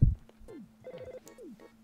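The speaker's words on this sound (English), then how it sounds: "Oh, the phone's ringing." Electronic telephone ringtone from the Earthbound video game, a short repeating chiptune-style ring with descending chirps, heard twice in quick succession at moderate volume with no talking.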